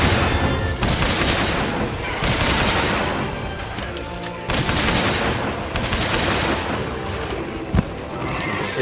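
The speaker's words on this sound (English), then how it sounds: "So these are barrel bombs. Place the bomb." Barrel bombs and landmine-style wyvern blasts go off in a monster-hunting video game, a dense, loud run of booming explosions and crackling blasts lasting throughout, with short lulls between the larger bursts.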